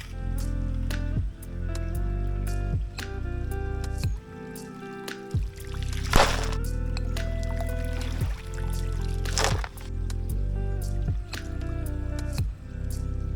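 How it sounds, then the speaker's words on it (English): Black sand is washed in a gold pan with water at a gold mine, giving close sloshing swirls and splashes in repeated pulses, with drips and trickles between them. "I'll do one pan, show you what it's looking like."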